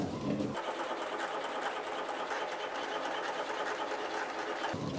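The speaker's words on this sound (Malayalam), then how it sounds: "അപ്പോൾ നമ്മൾ വെച്ച പൂവ് പ്രിന്റ് എടുത്ത് പുറത്തേക്ക് വരുന്നുണ്ട്" A printer scanning and printing a flower picture gives a steady, close mechanical whir with fast rhythmic ticking that starts abruptly and runs evenly for several seconds before cutting off.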